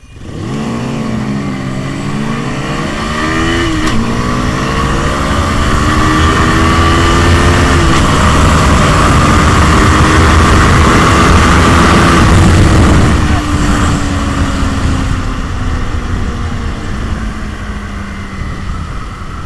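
Loud, close engine revving from RKS R250, Bajaj N250 and Benelli 125S motorcycles on a group ride, with pitch climbing and falling through the gears over steady wind roar for nearly twenty seconds.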